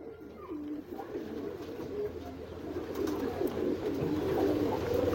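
Pigeons in a home breeding setup coo softly and repeatedly, a low rolling burble close by over a faint background hum.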